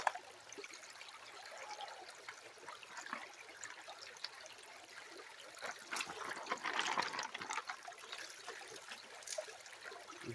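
Water trickles and splashes steadily through a gold sluice box set up on the inside bend of a creek where clay is being worked, a continuous close-up babble that swells briefly midway.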